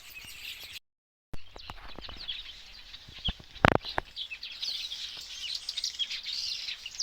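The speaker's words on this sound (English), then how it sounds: "So these birds are very clever. They have their nests on these trees" Birds nesting in trees around a village home chirp and tweet in quick, scattered high calls, with a brief gap of silence, a sharp knock, then denser twittering building toward the end.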